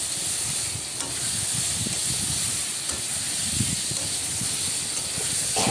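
Spice paste and fried potatoes being sautéed over a medium flame for a Bengali pointed gourd and prawn curry, giving a steady close sizzle and hiss with faint stirring scrapes throughout.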